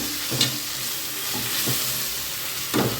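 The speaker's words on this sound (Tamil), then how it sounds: "உப்பு சேர்த்துட்டு நல்லா மிக்ஸ் பண்ணி விட்டுக்கலாம்" Tomatoes with salt are stirred in a hot pan, giving a soft continuous sizzle broken by a few spoon scrapes and clinks against the metal, close and moderately quiet with no talking.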